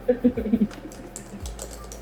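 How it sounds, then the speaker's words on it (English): A computer keyboard clicks in a brief, close burst of several keystrokes, then trails off into quiet room noise while voices murmur in the background. "I'll type it."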